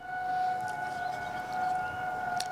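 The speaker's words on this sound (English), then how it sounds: "Nothing makes me feel at home like hearing a tornado siren being tested." A tornado siren under test in Birmingham wails as one steady, sustained two-tone drone, fairly loud and continuous, with a faint distant voice or crowd murmur underneath.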